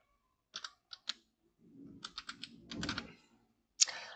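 Username and password typed on a computer keyboard while setting up a D-Link router: a few quick separated keystrokes, then a denser run of clicks and clatter, ending in one sharp key press, close and alone.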